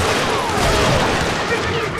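Dense battle noise from the Western shooter Call of Juarez: Gunslinger, with rapid overlapping gunfire filling the whole stretch at steady high loudness over a broad rumbling din, with a voice partly mixed in.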